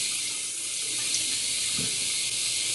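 A tap runs water over makeup brushes in a sink to dampen them, a steady close hiss of flowing water with a faint splash partway through, no voices.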